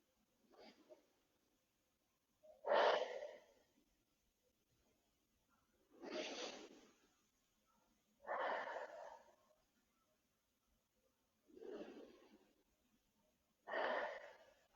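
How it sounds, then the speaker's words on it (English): Deep, slow breaths during a spinal care exercise session: five separate inhales and exhales spaced a few seconds apart, close and clear in a quiet room with no talking. "One more deep breath in"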